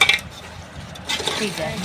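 A spoon scrapes and stirs through thick gunda (glue berry) pickle mixture in a pot, a short burst at the start and a busier stretch of stirring toward the end.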